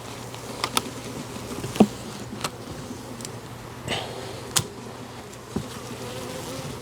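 A dense, continuous buzz of honeybees during a hive cutout, heard up close, with occasional sharp taps and knocks from handling the comb.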